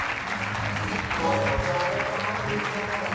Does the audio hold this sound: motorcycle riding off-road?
no